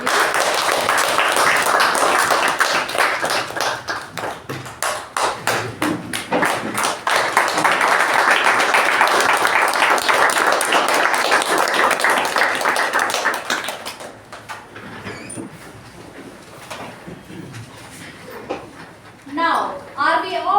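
Meeting attendees give a big round of applause after a speech, crisp close clapping from a modest group lasting over ten seconds before thinning out into quieter room sounds and scattered talk.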